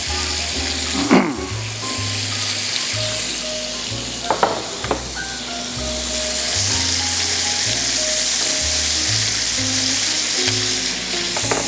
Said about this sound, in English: when you're sauteing, don't necessarily move around and keep flipping them